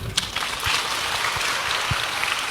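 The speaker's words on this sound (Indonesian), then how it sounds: "Tepuk tangan dulu." Listeners clap together at a religious question-and-answer talk, a steady wash of applause with a few sharper claps standing out.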